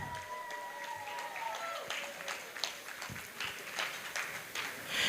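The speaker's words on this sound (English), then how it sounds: "Come on, let the applause continue." An audience applauds at a donor appreciation evening with a steady, faint, distant patter of many hands clapping, and some tonal sounds drift underneath.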